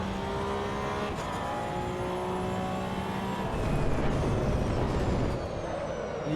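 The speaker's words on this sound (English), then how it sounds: "You can hear every little rumble strip." Porsche Cup race car in the Assetto Corsa Evo racing game running over rumble strips, a loud steady engine drone with a rougher buzzing patch midway, no voices.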